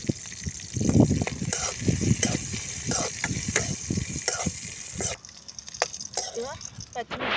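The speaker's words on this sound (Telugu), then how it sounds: "ఇవో పచ్చిమిర్చి కూడా మంచి వేగినాయి" Green chillies fry in a pan with cumin for a rustic gongura roti pachadi, a broad crackling sizzle with stirring scrapes up close; someone talks over much of it before the frying carries on alone.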